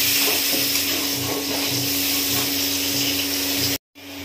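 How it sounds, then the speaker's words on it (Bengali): Potatoes sauté in an egg curry with a loud, steady sizzle and frying hiss that runs continuously and cuts off briefly near the end. "কষিয়ে নেব আলুটা"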